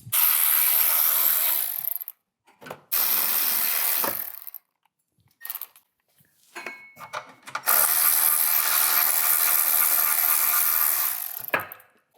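An M10 triple square socket on a ratchet loosens the sway bar bolts on an Audi D4 A8/S8, giving close, rapid ratcheting bursts separated by short silences and a few metallic clicks.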